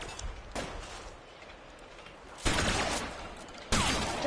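Gunshots in L.A. Noire come as a few sharp, loud reports separated by pauses over a steady background hum, with no voice over them.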